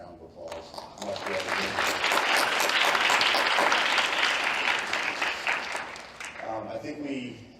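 Audience at a school spring athletics awards night breaks into sustained applause that swells, holds and then tapers, with a voice speaking over the start and close.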